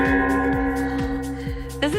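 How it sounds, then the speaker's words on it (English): An office gong rings with a sustained, shimmering metallic tone. Its low pulses recur steadily about every half second, and a voice cuts in near the end. "This is our gong, as you just heard"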